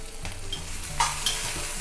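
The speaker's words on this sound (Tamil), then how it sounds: "குழம்பு வந்து அதாவது இஞ்சி தீயல் நல்லா கொதிக்கட்டும்." Inji theeyal, a ginger curry, simmers in a pan with a steady bubbling sizzle and occasional stirring scrapes, close and moderate in level, with no talk.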